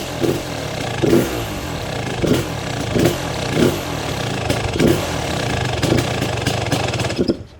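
Kawasaki KX250 dirt bike engine running near and loud after restoration, a steady rough idle with repeated rhythmic surges and pops roughly every second, alone with no talk.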